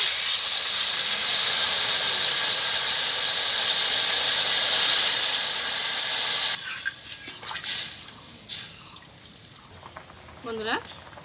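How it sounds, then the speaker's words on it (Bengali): A curry gravy with potatoes comes to a boil after water is added, giving a strong steady hiss and bubbling for several seconds that then drops off into quieter clatters and a faint high squeal, with no speech heard. "বন্ধুরা, তরকারি ঝোলটা দেখুন ফুটে উঠেছে।"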